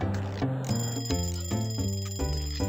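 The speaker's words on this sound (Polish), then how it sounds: "Dwa dzwonki w jednym momencie się uruchomiły." Two bells ring at the same moment in the Papa's Cupcakeria 2 cooking game, bright metallic chimes layered over the game's steady, bouncy background music, close and fairly loud.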